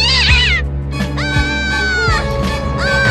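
A cartoon cat meows loudly at night in a spooky bedroom scene from The Simpsons, a long wavering, pitch-bending yowl that fills most of the moment over a low background hum.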